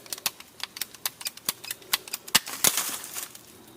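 A hydraulic hose protector sleeve is cut with a rapid run of about a dozen sharp snipping clicks, close and crisp, ending in a short rougher burst.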